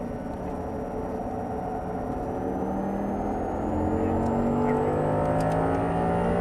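An Audi R8 sports car on a track accelerates hard, its engine note climbing steadily in pitch and loudness through a long continuous pull, heard close from inside the car.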